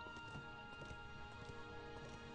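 Horse hooves clip-clop in the video game Rangers of Oblivion, a steady quiet run of hoofbeats over game music and ambience.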